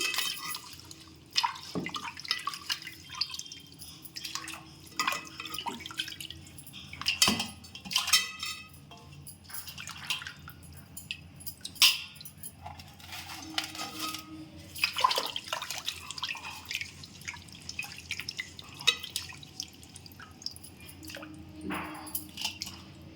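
Fish being washed by hand in salted water in a wide bowl for a fish fry, with steady splashing, dripping and squelching and the clatter of fish against the vessel, close and continuous with no talk.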